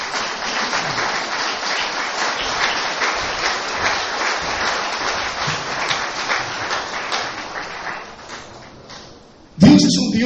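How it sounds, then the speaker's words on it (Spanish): A church congregation claps for the Lord during a Spanish-language sermon. Dense, even applause fills roughly nine seconds and fades near the end, then a loud burst of voice or sound cuts in abruptly. "Démonos un aplauso al Señor."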